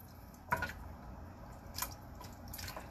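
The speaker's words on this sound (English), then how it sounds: "Everything washing with some vinegar." Turkey neck being washed in vinegar and water for Jamaican stew peas, with a few soft, close splashes and drips over a quiet wet background.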